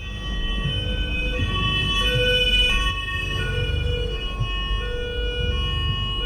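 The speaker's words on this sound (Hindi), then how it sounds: "शायद एम्बुलेंस आ चुकी है" An ambulance siren wails steadily in rising and falling tones over rumbling traffic, fairly close and continuous throughout.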